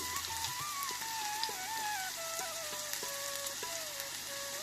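Onions, green chilies and curry leaves fry in oil over popped mustard seeds for a samosa filling, a faint, even, rain-like crackle with occasional light stirs and a thin tonal whine running through, with no voices.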